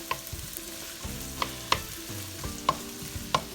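Onions stir-fried in a pan for chicken kimchi fried rice: a constant sizzle broken by several sharp scrapes and clacks of a utensil against the pan at irregular intervals, close and without talk.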